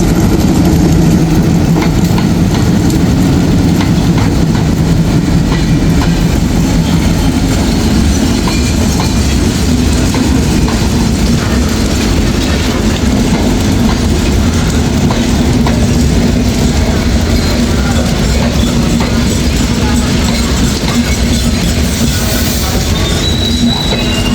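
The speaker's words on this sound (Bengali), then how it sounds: "এরই মধ্যে প্রবেশ করছে খুলনা থেকে ছেড়ে আসা আন্তনগর সীমান্ত এক্সপ্রেস" The Simanta Express intercity train from Khulna arrives at the station with a loud, continuous rolling roar, wheels squealing and clattering close by for the whole stretch.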